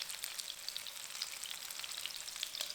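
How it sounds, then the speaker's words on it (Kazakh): Fish cutlets frying over medium heat in a covered pan, a soft, even crackle of oil with small sharp pops scattered throughout and no voices. "Дайын болғанға дейін орташа отта қуырамыз."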